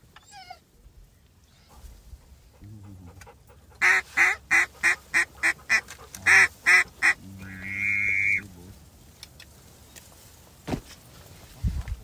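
Ducks at a hunting blind give a rapid run of loud, evenly spaced quacks, then a longer drawn call, with quieter calls before and scattered sounds after.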